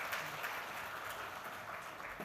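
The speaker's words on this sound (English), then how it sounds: "please join me in a round of applause for our panelists." Applause for the panelists at the close of an international tax conference session, a fairly faint, continuous patter of clapping from the audience lasting a couple of seconds, with no speech over it.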